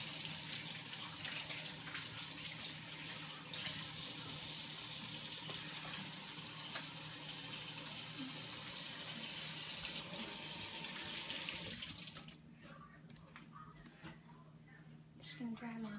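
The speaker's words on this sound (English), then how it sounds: "so I'm just gonna wash my hands" Hands being washed under a running kitchen tap before baking, a steady splashing water stream that stops near the end, with talk over it.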